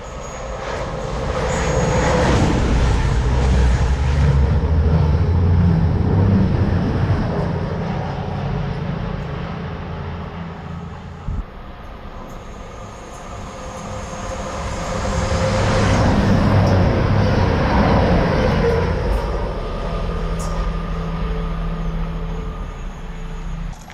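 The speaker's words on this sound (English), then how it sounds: "our steam train's flying through" Steam train rushes through Wellingborough railway station at dawn, a loud sustained roar and rumble of passing carriages that swells, dips midway, then builds again with faint squeals.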